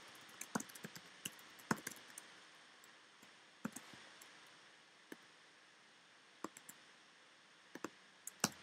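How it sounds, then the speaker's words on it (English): HTML code is typed on a computer keyboard in quick irregular bursts of sharp clicks with short pauses between them. The keystrokes are close and crisp over a quiet background. "seeing me how slow I am at typing"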